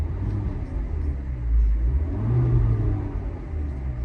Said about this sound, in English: So you can see revving the car.